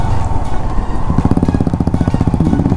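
Motorcycle riding along a mountain road toward Narkanda, its engine a steady close drone that turns into a pulsing, throbbing rhythm midway through, loud and continuous with no talking.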